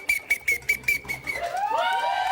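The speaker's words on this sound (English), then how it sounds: "That's one fine-ass whistle that boy got." A person whistles in short, bright repeated bursts, then slides into rising, wavering whistled notes, close and fairly quiet with no talking.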